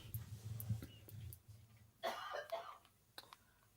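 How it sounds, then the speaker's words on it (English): One person coughs and clears their throat several times at close range over a low background hum, with a couple of short bursts near the end. "Is that person coughing?"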